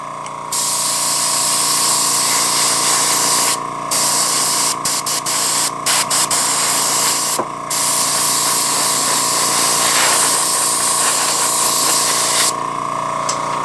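Airbrush spraying paint to weather an N scale model locomotive, a steady close hiss running in long bursts broken by several short pauses and brief stops.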